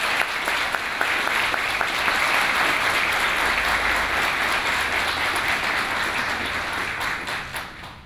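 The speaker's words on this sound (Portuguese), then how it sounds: "pedindo uma salva calorosa de palmas a eles." Warm, sustained applause from an audience honouring councillors at a public address, dense steady clapping that fills the room and holds at full strength before thinning out near the end.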